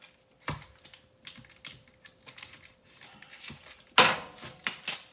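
A block of cheese is cut in half in a home kitchen for spinach artichoke dip, giving quiet scattered knife taps and cuts with one sharper, louder knock against the board midway, no voices.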